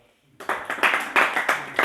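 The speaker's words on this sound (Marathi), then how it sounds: "यांच्यासाठी टाळ्या वाजवा" An audience at a religious satsang camp in an ashram breaks into clapping, a short burst of fairly close, uneven hand claps rising after a brief quiet moment.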